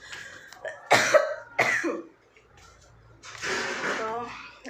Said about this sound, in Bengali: কাশি উঠেছে